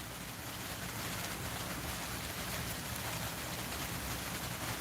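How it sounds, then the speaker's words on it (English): Steady rain falls outside a garage woodworking workshop, a dense, even hiss of drops on surfaces with no break, heard alone. "Yeah, I'm working in the rain."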